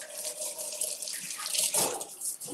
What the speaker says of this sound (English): let's wash hands.